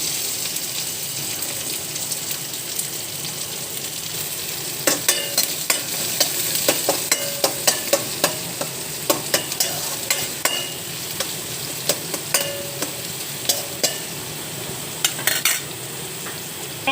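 Onion, garlic and curry leaves sautéing in a pan for a duck curry, a soft steady sizzle under repeated scraping and stirring clinks of a spoon, fairly close, with no voices.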